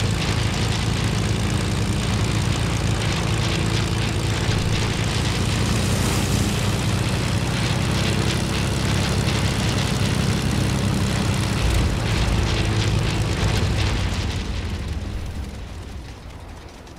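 A propeller airplane engine in the video game Fortnite drones loudly and continuously nearby, a heavy, steady roar that fades slightly toward the end.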